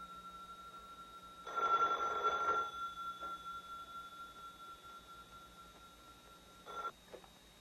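A telephone rings indoors with a bright, sustained electronic bell burst, then a second short ring, moderately loud against a quiet background hum.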